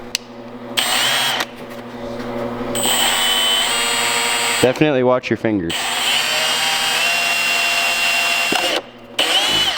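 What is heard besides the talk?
power drill drilling a hole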